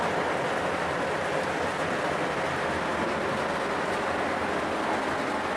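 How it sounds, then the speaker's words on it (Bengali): Steady rain falling outside, a dense, even hiss with no breaks and no voices. "বাইরে দেখেন বৃষ্টি হইতেছে"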